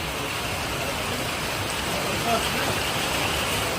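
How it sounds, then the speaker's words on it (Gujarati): Steady rain falls outdoors during a thundery storm in Gujarat, a constant, even hiss of drops on surfaces with no pauses and no voices. "વરસાદ ચાલુ"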